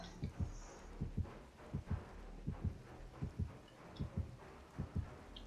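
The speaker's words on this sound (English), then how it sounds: "I gotta be careful because you can hear the heartbeat." Killer's heartbeat warning in the Dead by Daylight video game: a steady, low double thump repeating about every 0.7 seconds, moderately loud and alone with no talking.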